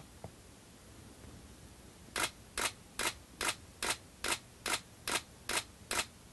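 A DSLR camera shutter fires a rapid burst of HDR bracketing frames, about ten evenly spaced crisp clicks following a moment of quiet room tone.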